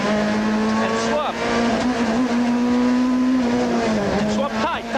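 A VW Golf Synchro rally car is driven hard on a stage of the 1994 Castrol International Rally, its engine droning and shifting pitch continuously. Tyre noise and a voice are heard over the engine.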